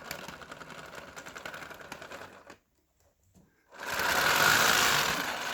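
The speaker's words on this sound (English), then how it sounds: "I like all that little clicking." A COBI Panzer VIII Maus toy brick tank rolls along with rapid mechanical clicking and whirring like a small sewing machine, stopping for about a second of near silence before starting again louder.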